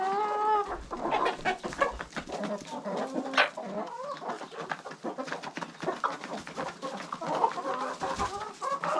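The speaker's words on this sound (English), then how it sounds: "I'd say these hens are about full size. These Brahmas, actually, the ones with the feathers on their feet, they might get a little bit bigger." Feather-footed Brahma hens cluck and murmur close by, a busy run of short, overlapping clucks and soft calls that continues throughout without speech.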